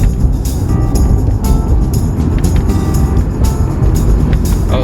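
2017 Maserati Ghibli being driven, heard from inside the cabin as a steady engine and road rumble with intermittent rattles and bumps, with some talking.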